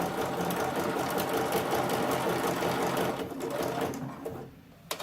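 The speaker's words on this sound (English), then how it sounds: "Normally I don't sew over a pin" A sewing machine stitches through layered lace lingerie pieces, a steady close mechanical hum running for several seconds, slowing and stopping near the end with a small click.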